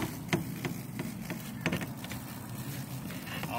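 Mahogany paper wasps (Polistes rubiginosus) swarm around a disturbed nest, a steady close buzz punctuated by several sharper taps or bumps, with no speech over it.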